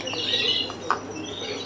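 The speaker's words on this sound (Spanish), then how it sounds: "Tengo aquí la pajarita." A small female pet bird held in the hand gives a few thin chirps over a steady background hiss, with one brighter chirp near the middle.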